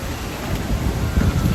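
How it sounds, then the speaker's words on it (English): Strong wind buffets the microphone outdoors beside a greenhouse, a loud continuous low roar with gusty swells and no speech. "It's so windy."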